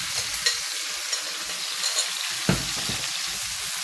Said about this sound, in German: Jetzt kommt das ganze Okra rein in Öl.